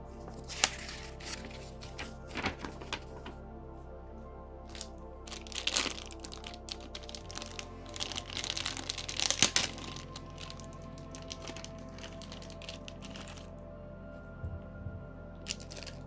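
Near a Star Wars E-Wing toy, an empty plastic bag is handled and crinkled in faint, scattered rustling bursts that grow busier midway, then settle into quiet handling noise with no talking.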